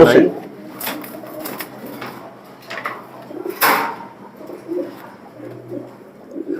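A racing pigeon, a prize-winning female, coos softly in low, repeated bursts nearby, with voices talking over it and a few faint knocks.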